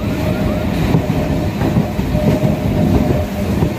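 Passenger train running on rails near Kalyanpur station on a wet morning after rain, a steady close rumble of wheels and carriages with faint clatter continuing throughout, no voices.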